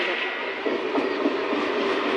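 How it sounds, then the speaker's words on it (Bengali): A train pulls into a station, its steady rumble and rail noise filling the clip at a constant level with faint clicks over the top and no clear speech. "ঢুকলো ট্রেন"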